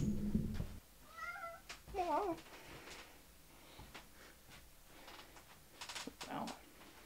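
A house cat lets out a few short meows between quieter rustling and soft tapping, close by and fairly faint, with a person speaking briefly.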